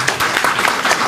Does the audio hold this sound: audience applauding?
yes